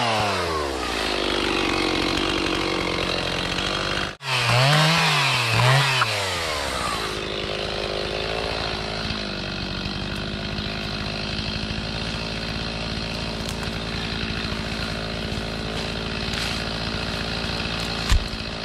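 A chainsaw clears a trail in the woods near an off-grid log cabin. It revs and bogs loudly and close through several cuts, then idles and drones steadily, with no talking.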